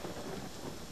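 Rain in the video game Watch Dogs, a short burst of dense, steady rainfall with a low rumble beneath, faint and continuous.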